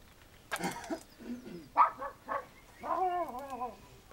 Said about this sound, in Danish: Har du hund i haven?